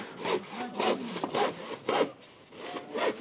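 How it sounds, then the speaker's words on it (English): Handsaw cutting through timber for a garden room base, a steady rhythmic series of rasping push-pull strokes, close and fairly loud, with no speech. "He's cutting it with a handsaw."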